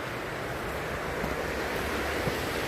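Surf at Om Beach near Gokarna rolls in continuously, a dense, loud wash of breaking waves with wind buffeting the microphone and no talking.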